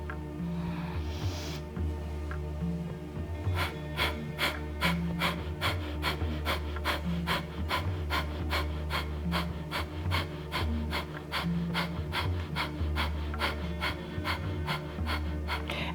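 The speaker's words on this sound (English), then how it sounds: "hold and do about 30 seconds of breath of fire." Kundalini yoga breath of fire: rapid, rhythmic panting breaths pumped out in a fast even series, close and clear over a low steady background drone.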